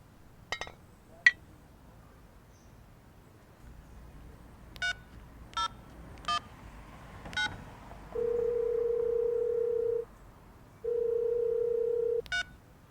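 Phone beeps and dialing tones before a call: a series of short separate key beeps, then two longer ringback tones with a pause between them, clear and close in an otherwise quiet setting.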